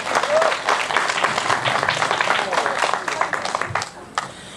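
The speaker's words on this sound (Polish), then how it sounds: "Brawa dla nich!" A festival audience in Modlnica claps for the Jurajska Kapela Folklorystyczna Gminy Zielonki folk band, a loud, dense burst of applause that holds steady for about four seconds before tapering off.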